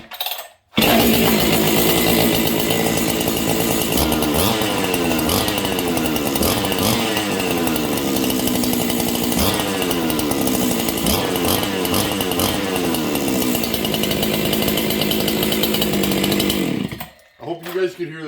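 A Husqvarna 200 series chainsaw with an aftermarket muffler runs loud and close, its engine revving in rising and falling waves with a sharp, raspy, high-pitched snarl for most of the clip before cutting off.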